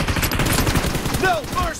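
Rapid automatic gunfire in the mobile battle royale game PUBG Mobile, a dense continuous burst of close, loud shots with a faint chirping game effect near the end.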